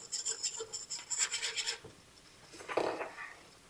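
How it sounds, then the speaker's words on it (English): Nylon whisk beating gravy in an enameled or nonstick pot, a soft continuous scraping and rubbing that stops briefly, then returns in a short final burst. "You just want a nylon one. Just want to whisk it up."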